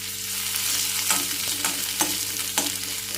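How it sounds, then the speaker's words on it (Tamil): Chopped onions sizzle in a tablespoon of oil in a kadai, a steady close frying hiss broken by a few soft stirring scrapes. "ஒரு நறுக்கி வெங்காயத்தை போட்டுக்கோங்க."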